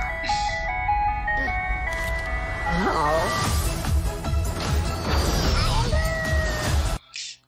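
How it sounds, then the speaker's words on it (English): An ice cream truck plays its jingle as a steady, tinkling melody that runs through most of the stretch amid busy background sounds, cutting off abruptly near the end. "Ice cream truck."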